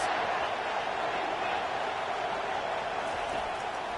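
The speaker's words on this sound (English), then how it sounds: "this crowd is tearing the lid off this place" Stadium crowd roaring in a college football video game, Georgia versus Alabama, a steady dense wall of cheering that holds loud and unbroken throughout.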